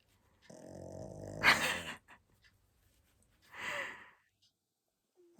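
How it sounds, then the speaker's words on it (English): An old dog snores and grumbles indoors, two separate rasping, growly breaths with a quiet pause between, close and soft. "Oh, snoring."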